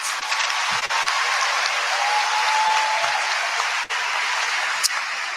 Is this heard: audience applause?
yes